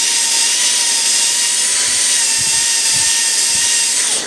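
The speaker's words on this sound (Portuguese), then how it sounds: "Trabalho com a ponta da broca lá no término para deixar o término nítido." High-speed dental drill bur whining steadily as it shapes a tooth for a metal-ceramic crown, a loud sustained whistle with a faint lower tone, running alone and winding down at the very end.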